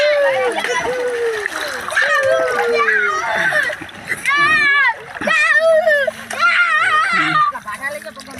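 People splash and plunge into canal water, repeated splashes mixed with loud, excited shouting and chatter from several voices, including children, throughout.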